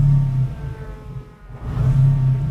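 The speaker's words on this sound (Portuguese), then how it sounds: "é diferente de um ronco de um AP quando é motor na frente" A VW Beetle fitted with an AP 2.0 naturally aspirated engine and rear-mounted exhaust revs with a deep, throaty rumble, easing off briefly before climbing again, loud and close.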